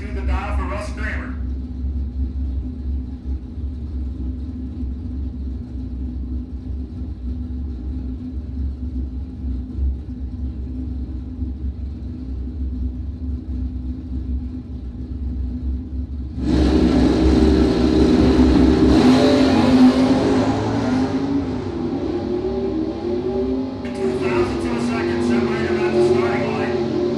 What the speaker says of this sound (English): Stock automatic, 64 Plymouth.